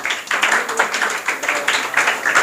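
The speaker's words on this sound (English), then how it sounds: "You have to clap for her." An audience claps steadily for a best student award winner at an English academy confidence building program, a dense, lively applause throughout with no speech over it.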